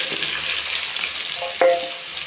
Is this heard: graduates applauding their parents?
no